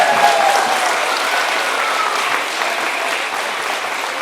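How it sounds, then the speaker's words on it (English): A crowd of parents and guests at a first grade awards ceremony claps steadily and loudly, a dense sustained round of applause heard close, with no speech over it. "Let's give all the students another round of applause."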